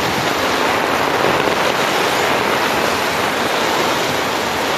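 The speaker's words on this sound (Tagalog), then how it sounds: "Sobrang baha." Floodwater rushing past in a steady, loud roar of broadband noise, continuous and unbroken with no voices.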